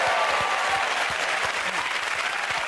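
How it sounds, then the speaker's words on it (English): Studio audience of a comedy panel show breaking into applause, a thick, even roar of many hands clapping at close range, sustained for the whole stretch. "Let us applaud him."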